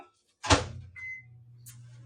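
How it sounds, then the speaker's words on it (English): Microwave oven being loaded with about two-thirds of a cup of chocolate for a cake: a door thump and a few beeps, then a low steady hum of the oven starting to run, close and fairly quiet. "We're going to microwave this baby."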